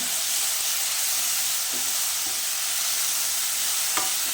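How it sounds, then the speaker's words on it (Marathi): Masala roasting with onions in a pan, a loud continuous sizzle and hiss close by, with a few faint clinks of stirring. "हा मसाला त्या कांद्याबरोबर चांगला भाजून घ्यायचं आहे."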